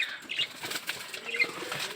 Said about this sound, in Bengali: দেখেন খাওয়ার জন্য কবুতরগুলো পাগল হয়ে আসছে কীরকম